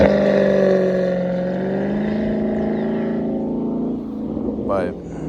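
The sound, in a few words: Dodge Charger car driving by and revving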